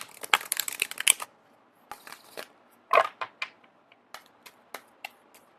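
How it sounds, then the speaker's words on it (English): Tarot cards are shuffled by hand in quiet, uneven bursts of crisp rustling and flicking, with short pauses between the clusters of card slaps. "I am going to keep shuffling until the first card pops out"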